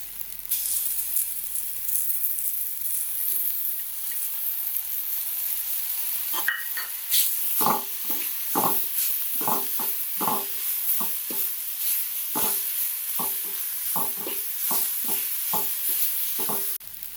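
Ginger and garlic frying with golden brown onions for veg cutlets, a constant hiss in the pan that grows busier with repeated spoon scrapes and clinks about every half second, close and with no talking.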